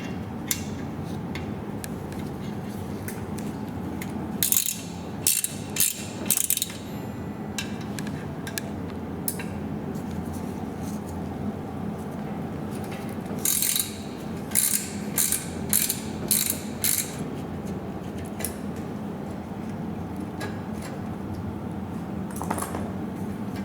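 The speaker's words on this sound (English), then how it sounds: "To remove the two bolts on the caliper, we will use 5mm Allen wrench, or you can use a set like this one." A 5mm Allen wrench ratchets caliper bolts loose on an electric bike's rear brake, giving short bursts of quick clicking over a steady low background hum, with quiet gaps between the bursts.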